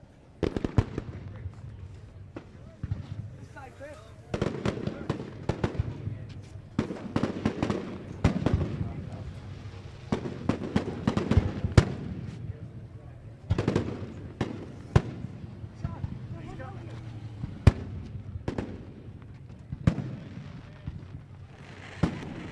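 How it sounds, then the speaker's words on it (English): Fireworks at Ohsweken Speedway go off again and again, a long irregular run of sharp bangs and crackles at varying distances, some loud and some faint. "fireworks lighting up the skies we do every week here"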